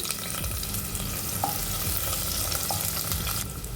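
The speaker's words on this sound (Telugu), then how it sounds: "ఇప్పుడు సన్నగా పొడవుగా కట్ చేసుకున్న ఉల్లిపాయ ఒకటి వేసుకొని బాగా ఫ్రై చేసుకోవాలి" Thinly sliced onion frying with whole spices and a bay leaf for tomato rice gives a dense, continuous sizzle, close and even, with a couple of faint utensil ticks and no speech.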